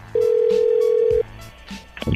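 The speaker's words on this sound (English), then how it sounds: "check out what happens when I call this disconnected number" A call to a disconnected number on a small rural Sierra Telephone line: a single steady tone holds for about a second, then gives way to faint clicks and line noise.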